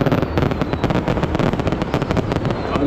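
Fireworks crackle and pop in a dense, continuous barrage at the Badshah fair in Beawar, Rajasthan, with rapid sharp bursts filling the whole stretch, loud and fairly close, and no talk over them.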